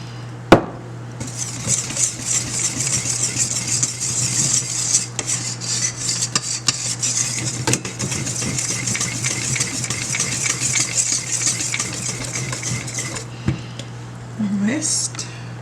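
Dinner roll dough being whisked by hand in a bowl, making continuous clattering and scraping against the sides at a steady pace, close and fairly loud, with a low steady hum underneath.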